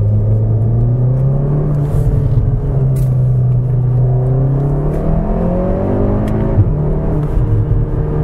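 Cupra Ateca 300PS SUV from 2019 with its engine burbling under acceleration, a steady close low rumble with rising engine tones throughout, no talk.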